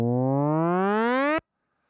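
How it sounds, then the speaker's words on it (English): A synthesized uplifter riser made in Serum climbs steadily in pitch as one bright, buzzy sustained tone, loud and alone, then cuts off abruptly, leaving silence. "the uplifter"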